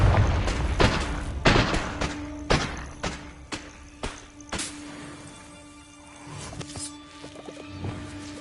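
Repeated sharp blasts of a Confringo fire spell in Hogwarts Legacy, several loud thumping explosions at uneven intervals, followed by quieter crackles and combat sounds.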